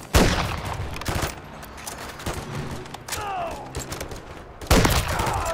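Gunfire in a Call of Duty: Modern Warfare III campaign mission, with loud bursts of rapid automatic shots at the start and end, separated by quieter combat noise and a brief voice in the mix.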